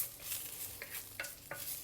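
Quiet frying with a soft sizzle as garlic and ginger are stirred in a pot, a few brief scraping bursts standing out.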